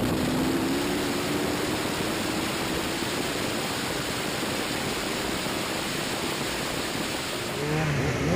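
On-board sound from an Ariel Atom V8 on rear-wheel drive with track day tyres during a drag race against a rallycross Citroen DS3 and a BMW HP4 superbike: a steady, loud engine roar blended with heavy wind rush, holding nearly constant throughout.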